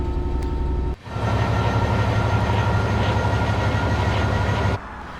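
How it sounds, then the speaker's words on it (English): In a video game, a Class 66 diesel locomotive hauls PCA freight wagons, a steady rumbling drone with a low engine tone. A brief dip near the start is followed by a constant roll until it cuts off near the end. "we have a PCA freight train"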